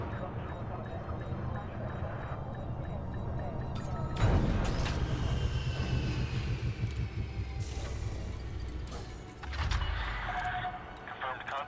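A spaceship touches down in the space game Elite Dangerous: a steady low engine rumble builds to a sudden heavy thump and surge partway through, with whooshing and mechanical hisses after, while a synthetic voice speaks over it.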